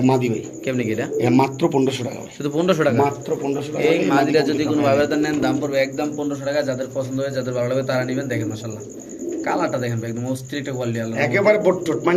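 A short-face pigeon coos at a pigeon market, its soft, repeated throaty notes close by and mixed with steady talking from people nearby.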